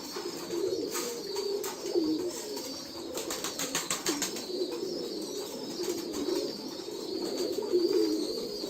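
Young pigeons coo softly and repeatedly nearby, with bursts of fluttering wings and shuffling in between.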